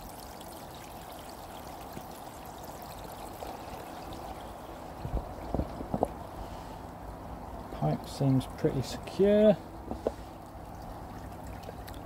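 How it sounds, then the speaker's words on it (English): A steady trickle of water runs from a Bakki shower pipe, the valve about a third to half open, a soft continuous wash under a voice. "Water's trickling out of there."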